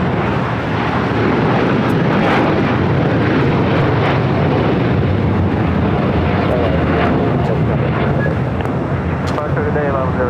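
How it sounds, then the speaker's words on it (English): An El Al airliner roars down the runway on takeoff at LAX, a loud, steady rumble of jet engines with wind buffeting throughout. "This is El Al Flight 6 taking off to Tel Aviv"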